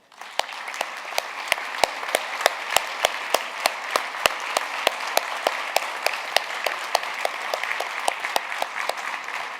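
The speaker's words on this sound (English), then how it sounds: "a round of applause" Applause for the Premier of Greenland from a conference audience, a steady patter of many hands with distinct individual claps popping out regularly, moderately loud and continuing throughout.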